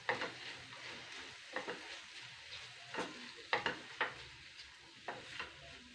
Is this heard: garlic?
yes